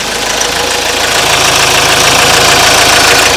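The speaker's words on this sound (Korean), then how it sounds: "엔진 소리 한번 들려드리도록 하겠습니다." A SsangYong Tivoli 1.6 XDi diesel idles with the hood open, giving a loud, close, continuous clattering rumble with a steady knocking texture and no talk.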